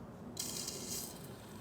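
Brake cleaner hisses out of an aerosol can as it is sprayed through the clutch line of an E46 drift car, a steady close spray that starts suddenly and holds for over a second above low mechanical background.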